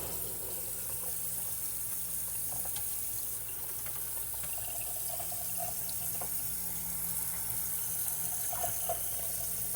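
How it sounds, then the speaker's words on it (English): Tap water runs steadily into a kitchen sink while purple hull peas are rinsed under it, a continuous close splashing rush with faint clinks, no talking. "I am actually rinsing these beans really, really good"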